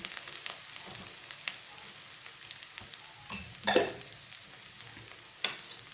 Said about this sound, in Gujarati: સરસ મિક્સ કરી લઈએ. સાથે સાથે મીઠું પણ એડ કરી લઈએ.